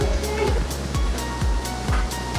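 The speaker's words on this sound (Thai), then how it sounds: "นี้เป็นแม่น้ำสิงคโปร์อะ" Water of the Singapore River rushes steadily beneath a moving amphibious duck tour boat, a loud continuous wash with a faint repeating engine thump and no talk.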